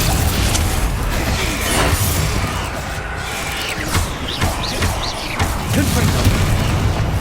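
Bombarda spell blasts from Hogwarts Legacy on PS5 land as a string of loud, punchy booms and crashes, several hits in quick succession amid busy combat noise.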